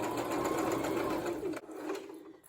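A sewing machine bastes a fabric piece for a zippered mask case, a steady close whirring stitch that stops abruptly, then runs briefly again at a slower pace.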